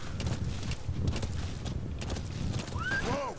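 A horse in Metal Gear Solid V: The Phantom Pain whinnies near the end, its neigh rising and falling, over a steady bed of background noise and soft movement throughout.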